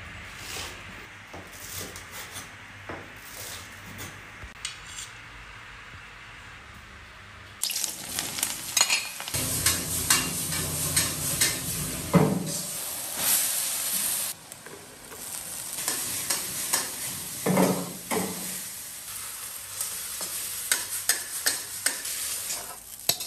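A bun filling is stir-fried in a pan with chicken bouillon, soy sauce, oyster sauce and salt, giving a steady close sizzle and repeated spatula scraping that turns louder partway through, with no talk.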